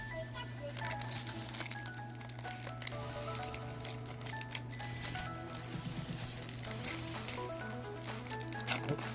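A Japanese Pokémon trading card pack being torn open by hand, a quiet crinkling, ripping foil wrapper sound over a steady background of music-like tones.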